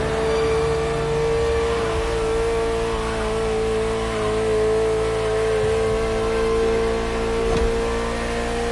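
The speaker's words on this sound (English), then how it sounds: "The greatest sports car ever made. And again, at the time, the fastest Ferrari ever created." A Ferrari sports car engine, once the fastest Ferrari built, runs loud and steady throughout with a sustained rev and strong harmonic hum, rising slightly in places.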